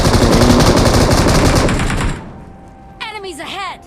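An M249 machine gun fires in a video game, sounding as a dense, loud burst of rapid shots that cuts off abruptly. Brief game sounds and a short voice follow.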